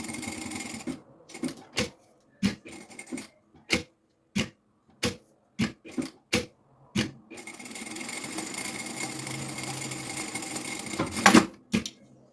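A sewing machine closes the open side of a preschool backpack with a kangaroo pocket, first in a series of short, evenly spaced stitching bursts, then running steadily for several seconds before a final brief burst.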